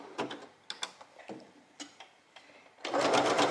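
Overlocker (serger) stitching a seam on a bohemian maternity dress, heard as short rapid mechanical bursts separated by pauses, then a louder continuous whirring run at the end, close and with no talk.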